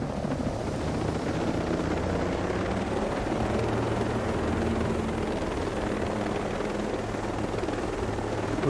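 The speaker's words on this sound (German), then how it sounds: "Wir haben auch einen Heli." Helicopter in the video game Ghost Recon Breakpoint, a loud, continuous rotor roar and engine drone that holds steady throughout with no talking.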